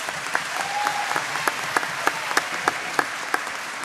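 Audience applause at an agricultural awards night for a young farmers' competition, steady clapping with sharp individual claps standing out, moderately loud and continuous throughout.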